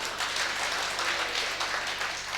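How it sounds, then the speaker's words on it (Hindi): Audience applause at a mushaira Urdu poetry gathering in Sambhal, a moderately quiet, steady wash of clapping from a seated crowd, somewhat distant with a faint electrical hum beneath. "अपने लिए तालियां बजा दी एक दफ़ा"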